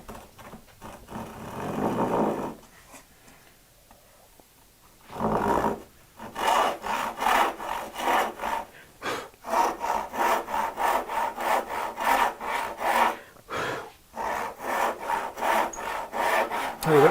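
A hand saw cutting wood in quick, rhythmic back-and-forth strokes, close and rasping, after a few short starting strokes and pauses.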